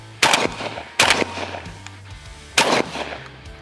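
Three loud, close 12-gauge shotgun blasts from a Savage Renegauge firing Federal Top Gun target loads from the shoulder, each sharp report followed by a short ringing decay.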